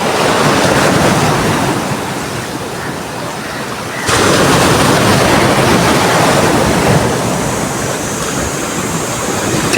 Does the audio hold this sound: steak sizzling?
no